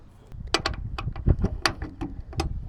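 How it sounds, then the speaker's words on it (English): An Allen wrench tightening a truck part, a series of sharp metallic clicks and taps at an irregular rhythm, close up, with scraping and handling noise between them. "Use this Allen wrench and then tighten it down."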